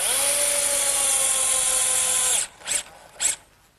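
A power drill whines steadily for over two seconds, driving 2-inch galvanized bugle head screws into a pair of cedar legs of a children's sandbox, followed by two short bursts of the drill near and loud.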